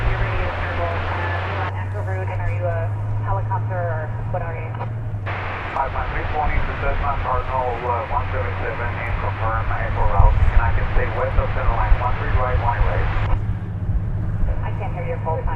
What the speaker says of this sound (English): I've got another small cargo plane